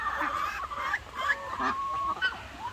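Loud, close honking and quacking calls from several ducks overlap in quick, irregular bursts.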